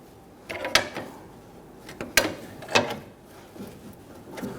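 A pry bar working a front control arm out of the cradle on a 2011-2015 Kia Sorento gives several sharp metallic clunks and creaks, spaced irregularly and close by.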